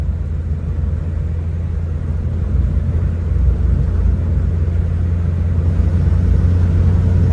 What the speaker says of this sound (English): You do get that usual Morris Minor rasp, especially when you take your foot off the throttle.